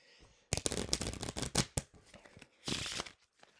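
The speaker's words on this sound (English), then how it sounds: "I'm just anxiety shuffling these cards." A deck of playing cards being shuffled, with rapid riffling bursts and short pauses, close up.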